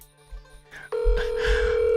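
A telephone starts ringing after a short quiet stretch, a sustained electronic tone that holds steady and fairly loud to the end.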